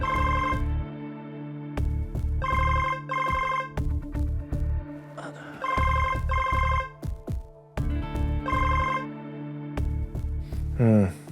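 A phone rings during an outgoing call in repeated bursts of electronic ring tones separated by short gaps, close and clear, with a few clicks and a rising chirp at the end.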